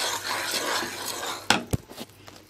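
Melted sugar syrup stirred in a pan for a sweet mango pickle, with a steady, soft scraping swirl, then a few sharp clinks of the spoon against the pan, close and moderately loud.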